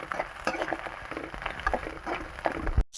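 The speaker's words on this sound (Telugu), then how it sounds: "కోడిగుడ్డు నూనెలో వేగుతూ ఉంటే" Egg and onions frying in hot oil for fried rice, a close crackling sizzle with patter and stirring scrapes, ending in a brief thump.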